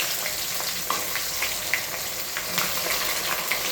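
Bay leaves and cumin frying in hot oil, filling the air with a dense, steady sizzle and crackle, close and moderately loud, with scattered small pops and no talking.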